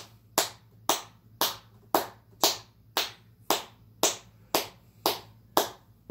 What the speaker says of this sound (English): I'm just going to clap.